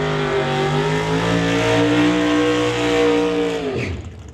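A 1941 Willys drag race car roars loudly at the track, its engine holding a strong harmonic drone with slight pitch shifts before the sound drops off sharply near the end.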